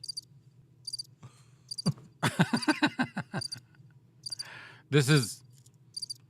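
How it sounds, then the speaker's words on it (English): Crickets chirp in short repeated high pulses, fairly faint and intermittent, with someone talking briefly over them in the middle. "I was looking for the crickets noise."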